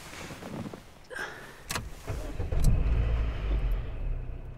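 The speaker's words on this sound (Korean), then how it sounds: "제가 시동 걸어볼게요." A car at rest fails to start on a dead battery: a few faint clicks and clunks, then a low, strained rumble from the engine bay that builds and holds for a couple of seconds without catching.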